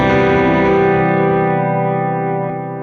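A distorted electric guitar chord rings out through a hot-running amp plugin, its compressed delays and reverb sustaining thickly and fading gradually over about three seconds.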